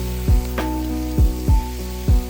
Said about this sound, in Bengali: এই যে মাংসটা দিয়ে খুব ভালোভাবে কষিয়ে নিচ্ছি